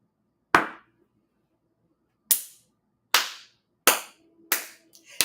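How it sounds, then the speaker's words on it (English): Hand claps ring out alone: five sharp, loud single claps at uneven spacing, each dying quickly into silence. "Let me give y'all the penguin clap."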